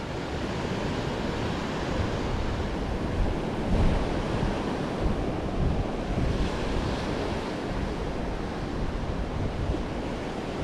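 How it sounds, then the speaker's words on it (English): Steady wind roars over the microphone on an outdoor winter walk along the coast at Can Picafort, Mallorca, a loud continuous rushing noise like surf that swells slightly now and then, no speech. "There's quite a bit of wind."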